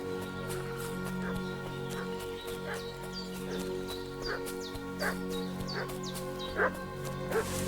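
A dog barks and fusses at a distance in the medieval game Kingdom Come: Deliverance II, with sharp repeated yelps scattered over a steady ambient background of music and environment.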